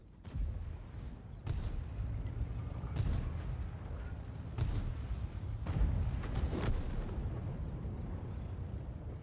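Tank cannon fire in World of Tanks at tier 10, several muffled booms with short rumbling tails spread across the stretch, heard at a moderate distance against a steady background.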